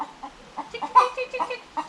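A chicken gives its alarm call: a close, loud, rapid series of repeated clucks and squawks, with no one talking over it.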